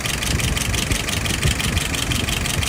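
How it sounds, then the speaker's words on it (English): A small Yamaha YS 637S engine idles at a steady, even rumble, running continuously without revving. "Idling nice and smooth."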